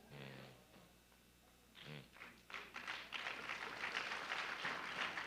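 An audience breaks into applause for a speaker at a live-streamed talk, a dense spread of clapping that starts after a few scattered taps and thumps and builds to a steady, fairly close roar.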